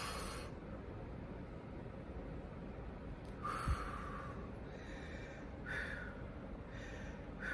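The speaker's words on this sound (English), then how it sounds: "Breathe in, breathe out." People take slow, deep breaths in and out, a few soft hissing inhales and exhales spaced a couple of seconds apart, quiet and close with no speech.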